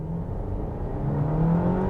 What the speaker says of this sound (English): you get the engine kicking in straight away, as well as the electric motors